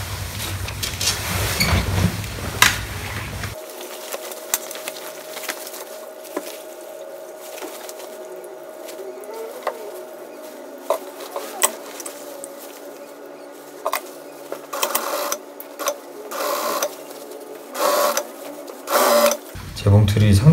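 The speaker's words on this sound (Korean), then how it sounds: "재봉틀이 상대적으로 되게 조용한 편이죠" A sewing machine hums steadily and fairly quietly while stitching a remade denim jacket, with occasional clicks and rustles, and brief talk at the start and end.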